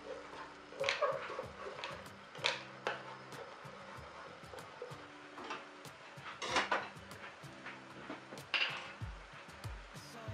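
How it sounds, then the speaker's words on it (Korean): A flat utensil scraping browned fond from a pan during deglazing with pasta water for tomato seafood pasta, with repeated clinks and scrapes of metal and wood at an irregular rhythm, close and fairly quiet. "집에 있는 넓적한 걸로 저 때들을 긁어주세요"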